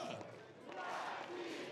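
A stadium crowd at the 2016 Euro Beach Soccer League Superfinal, Russia against Switzerland, chants the Russian team's name during the trophy presentation, a faint, distant, steady roar of many voices.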